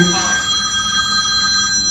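A mobile phone rings through a meeting room, its steady electronic tone sounding continuously under a faint murmur of voices.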